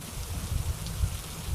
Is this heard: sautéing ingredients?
no